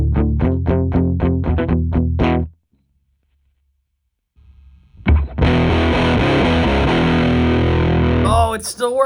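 An electric guitar played through a deliberately damaged distortion pedal: fast plucked notes, a sudden dropout to near silence, a low hum, then a loud, sustained, heavily distorted and fuzzy chord.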